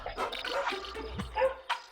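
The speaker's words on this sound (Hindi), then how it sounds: "ये कुत्ते भी सोते नहीं क्या?" Dogs bark at night in a Hindi film scene, giving a few short, moderately close barks over a quiet, murky background.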